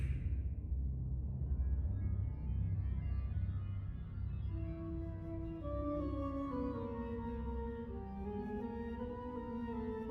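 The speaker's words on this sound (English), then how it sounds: "That sound, that's the sound of the Reaper flute!" Reaper flute in the video game Infinity Strash Dragon Quest: The Adventure of Dai, an eerie tune of sustained wavering notes rising in pitch, heard alone over a low droning backdrop.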